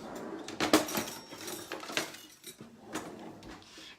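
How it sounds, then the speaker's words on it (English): A metal whisk works through a cheesy sauce in a pan, giving irregular light clinks and scrapes against the metal at close range, with quieter stirring between the sharper taps. "I might actually switch over to a whisk just to kind of work on this a little bit better."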